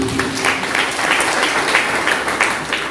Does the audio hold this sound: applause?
yes